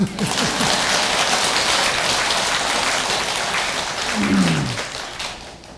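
Applause from the audience at a Buddhist dharma assembly, a dense, steady wash of many hands clapping together for several seconds before trailing off, with a brief voice heard over it near the end.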